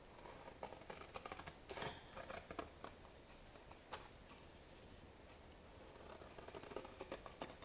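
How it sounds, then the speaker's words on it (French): Scissors cutting paper for a handmade correspondence box, soft close snips and crisp rustles at irregular intervals, quiet and without talk. "Mon ciseau. Alors, il faut couper."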